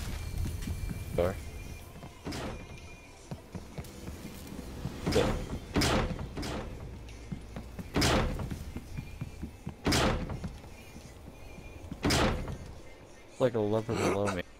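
Doors in the video game Call of Duty Cold War open and shut in a string of sharp thuds and slams, several loud hits spread across the clip over a low game background.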